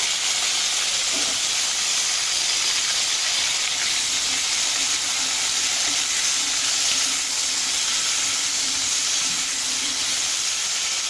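Star gooseberries hiss and sizzle steadily in hot oil with curry leaves and lump asafoetida for an instant pickle, a loud, continuous frying crackle.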